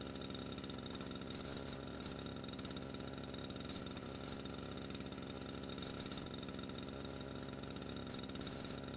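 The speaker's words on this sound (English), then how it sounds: "Why does it still play the engine sound after it's..." A lawn mower engine from Lawn Mowing Simulator, a video game, drones steadily at a constant pitch for the whole stretch, with faint periodic clicking above it and no talk.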